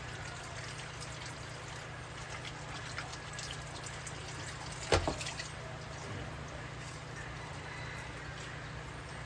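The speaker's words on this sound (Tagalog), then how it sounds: "Binabanlawan ko siya para madali na siyang sabunin." Running water used to rinse before soaping while cleaning a pool, a steady close trickle and splash with a brief louder clatter midway.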